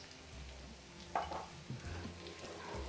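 Chilli flakes dropped into a pan of frying garlic chilli chicken: a soft, steady sizzle with a brief scrape and a light clatter partway through, fairly quiet and close.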